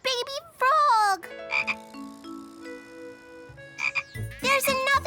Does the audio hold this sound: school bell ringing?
no